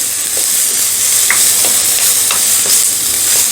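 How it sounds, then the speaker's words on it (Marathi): Chopped onion and peas sautéing in a pan for a jowar flour soup, a loud, continuous close sizzle with soft stirring scrapes, alone without talk. "आता आपण यामध्ये कांदा घालूयात त्याचबरोबर मटारसुद्धा घालूयात हे थोडंसं परतून घेऊया"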